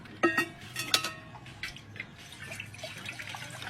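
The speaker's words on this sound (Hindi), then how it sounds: "सबसे पहले आपको पानी डालना होगा। पानी डालिए।" Water goes into a pot for making tea. A few sharp splashes and drips come close up at the start, followed by a softer, uneven trickle and light liquid sounds.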